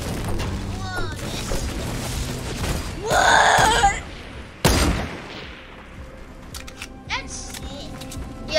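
Firework blasts in a shooting video game: a loud, crackling burst swells in the middle, then a sharp bang follows, with lighter pops and game noise around them and voices talking.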